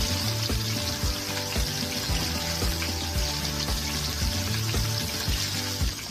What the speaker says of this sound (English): Now we're gonna cook the chicken, okay?